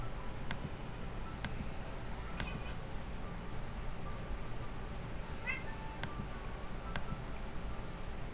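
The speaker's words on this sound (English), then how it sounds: "If you hear him meowing, that's him playing." A cat meows while playing, a few times, fairly faint and intermittent, over a low steady background hum with occasional sharp ticks.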